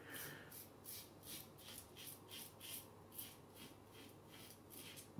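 A double-edge safety razor fitted with a SuperMax Super Stainless blade scrapes through stubble in quiet, rhythmic rasping strokes, close and steady, about ten passes in quick succession.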